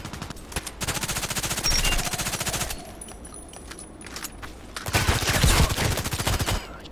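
Rapid automatic gunfire from a shooter video game rattles in two long bursts with a quieter gap between them, close and loud, with no talk over it.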